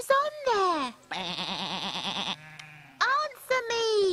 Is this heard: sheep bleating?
yes